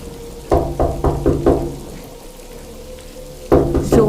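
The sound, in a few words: loud knocking on a car window, sound effect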